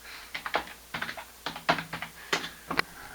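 Bursts of typing on a computer keyboard, close and clear, in short clusters of quick clicks with brief pauses between them, while installing a new 2 TB hard drive and reinstalling chipset drivers; no talking.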